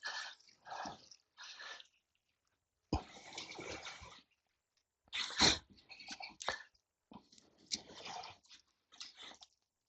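A car is washed with soapy water in short, quiet bursts of splashing and scrubbing separated by brief pauses of silence.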